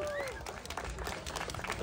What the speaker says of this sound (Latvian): Ar aplausiem un ovācijām